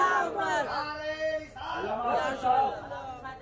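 Crowd at a Ramzan religious gathering shouting Allahu Akbar in unison in reply to Nara-e-Takbir, a loud collective chant of several voiced swells rising and falling, sustained across the moment.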